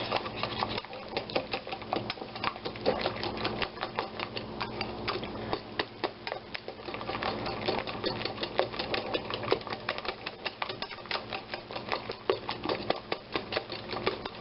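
Four large eggs are whisked with Splenda sweetener in a bowl, a fast steady clicking and ticking of the whisk against the bowl running continuously and fairly close throughout.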